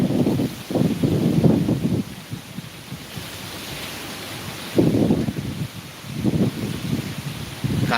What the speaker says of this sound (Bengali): বাতাস প্রচুর পরিমাণে ঝড় হচ্ছে